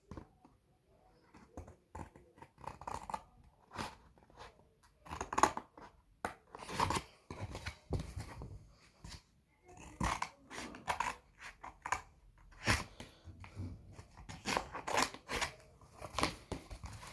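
Paper or thin card being cut with scissors, a run of crisp snipping strokes in irregular bursts, close and fairly quiet with short pauses between cuts.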